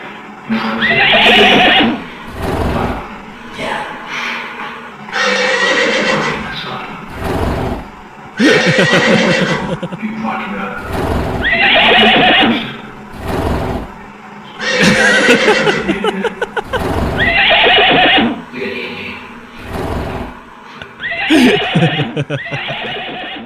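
Horse repeatedly neighing, loud shrill whinnies recurring every few seconds, with some hoof clip-clop between them.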